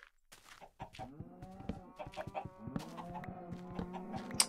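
Chickens cluck repeatedly in a farming video game, with a run of short, close, fairly soft calls and small bursts of squawking that overlap each other without pause.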